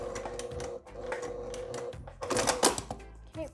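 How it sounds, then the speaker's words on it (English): A home sewing machine stitches a back stitch along the top of a fabric wristlet, its motor whirring in short, close runs with a brief pause and a louder burst near the end. "I'm going to sew down this top part up here. This back stitch right there."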